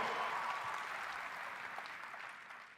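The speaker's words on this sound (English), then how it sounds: "Let's give them a round of applause." A large audience applauds at the Adobe MAX 2022 opening keynote, a dense wash of clapping that holds steady and then slowly fades.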